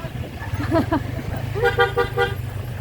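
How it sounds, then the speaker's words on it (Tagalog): A car horn sounds in a few short toots, the last ones a quick triple burst, over steady low traffic rumble and background voices. "Oh, busina. Oh. Oh, busina."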